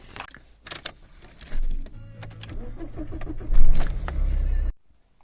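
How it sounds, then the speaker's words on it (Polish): A car engine cranks and catches, with a low rumble building and idling loudly near the end before cutting off abruptly; keys and small clicks are heard beforehand. "odpalam auto i jedziemy"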